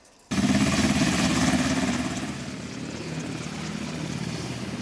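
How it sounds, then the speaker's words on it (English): A helicopter used by Colombia's anti-narcotics police in a surprise raid on a jungle cocaine laboratory thunders in abruptly, loud and close, its rotor and engine roar then easing slightly but holding steady. "a surprise helicopter raid on a jungle cocaine laboratory by Colombia's anti-narcotics police"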